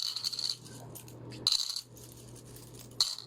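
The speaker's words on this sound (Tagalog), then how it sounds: "Dami na ipon ni Daddy na barya-barya." One-peso coins drop and clink into a bowl in three separate bright bursts, near and fairly quiet, with a soft background hum between them.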